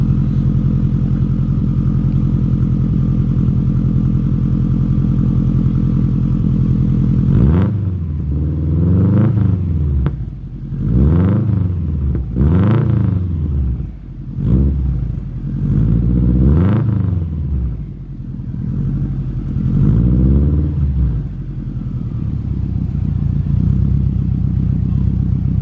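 A 400 hp Subaru WRX engine, just started for the first time with custom lines and an EVAP delete, idles with a deep rumble, then rises through a series of sharp, loud revs that sweep up and fall back repeatedly before settling to idle.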